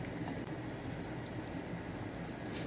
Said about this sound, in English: we'll put our pressed plantains back into our skillet and fry them on both sides again, and you'll hear how crispy they are